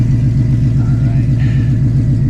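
Supercharged 900 HP Shelby GT350 with a worn clutch idling or cruising, a loud deep pulsing engine rumble held steady and close throughout, with a faint higher whine rising briefly midway.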